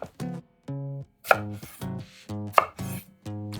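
A knife chops a peeled vegetable into quarter-round slices on a cutting board for a yukgaejang hot pot, about a dozen crisp, evenly spaced close knocks in quick rhythm.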